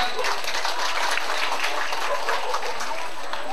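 A crowd applauding to welcome a guest at a Songkran festival event in Thailand, a dense, steady clatter of many hands clapping at once, fairly close and continuous, with a low background hum.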